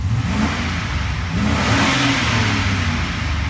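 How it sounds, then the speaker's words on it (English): The 6.0-liter LQ4 V8 of a 2003 Chevy Express van revs up loudly close by, a deep, rough roar that swells and sustains for a few seconds. "We're gonna give it a couple revs, see how it sounds."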